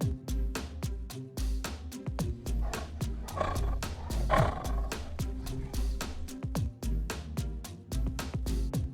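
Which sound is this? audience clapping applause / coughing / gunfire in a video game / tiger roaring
tiger roaring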